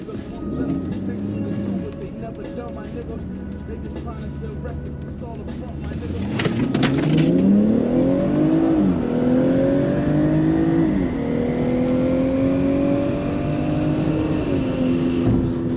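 A BMW 440 engine on a drag strip run, idling low at first and then revving hard through rising, stepped gear pulls, loud and close, with brief voices under the engine early on.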